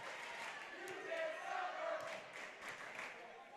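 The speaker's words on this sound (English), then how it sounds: "As you hear the Lutheran South crowd now chanting, "You can't stop her."" The Lutheran South crowd chants a rhythmic cheer during a varsity volleyball match in a gym. The chant is a steady, distant roar of many voices rising and falling.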